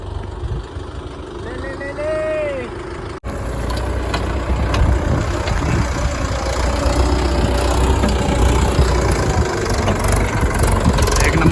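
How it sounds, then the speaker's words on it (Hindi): A Mahindra tractor engine runs at a steady, loud drone close by, picking up after a brief quieter opening and holding a dense low rumble to the end. "मैं जाता हूँ ट्रैक्टर चला हूँ"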